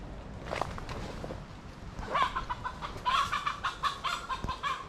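Chickens cluck and squawk repeatedly outdoors, a few calls near and others farther off, with rustling and what sounds like footsteps scratching underneath.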